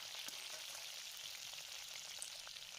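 Cauliflower florets frying in ghee in a wok (kadai) for a Kali Puja offering, giving a steady, dense sizzle that stays even from start to finish, close up with no voices.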